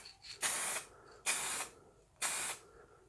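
Three aerosol rattle-can bursts lay light passes of clear lacquer over a TV yellow Les Paul Junior guitar body, each spray a steady hiss of about a third of a second, with short pauses in between, close and clear.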